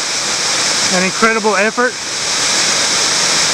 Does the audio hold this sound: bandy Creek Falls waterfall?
yes